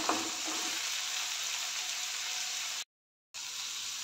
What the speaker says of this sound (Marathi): टोमॅटो चांगला परतून घेऊया.